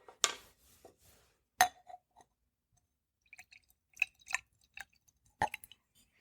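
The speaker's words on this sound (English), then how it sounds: "Let me pour it real quick so I can get a better look at the color in the glass." Wolcott Rickhouse Reserve Straight Bourbon Whiskey poured from its bottle into a glass: quiet, scattered glassy clinks and short splashy drips with long silent gaps, no voices.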